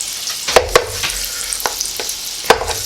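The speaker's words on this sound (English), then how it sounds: "let this butter melt down" Butter melts in a hot pan with a steady bright sizzle, broken by a few sharp knocks and scrapes of a utensil against the metal, close and fairly loud, with no voices.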